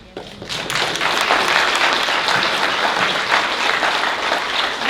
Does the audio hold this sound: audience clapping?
yes